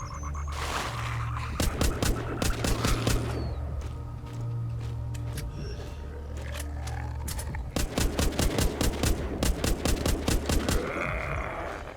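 Gunfire at zombies in the Walking Zombie 2 video game on Xbox Series X, loud repeated bursts of rapid shots in clusters over a steady low hum, with scattered single hits and game noises between.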